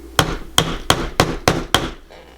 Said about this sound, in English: to harden it you need the rawhide mallet. So you would just go in and give it a little hammer